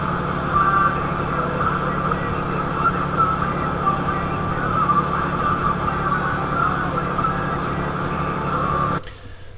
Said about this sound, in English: I got the radio on, you can hear the truck engine